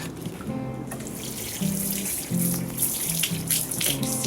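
Water pours steadily from a watering can onto garden plants in midsummer, a continuous splashing gush that runs the whole time with slight surges, close and fairly loud, with no talking.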